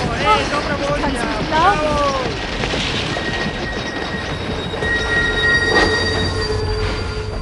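A train in The Last Express brakes hard to a stop, with a loud, steady rumble of rail noise and high squealing brake tones that rise and fall, then hold as long thin whines.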